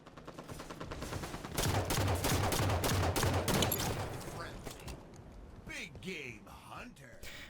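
Gunfire in Halo 5 multiplayer: a dense burst of rapid automatic shots fills a few seconds, then fades into scattered game effects, with someone talking over the action.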